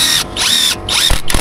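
Power drill driving U2 Fastener universal construction screws into wall framing on a building addition, two or three short whining bursts with brief pauses between, close and loud, no talk.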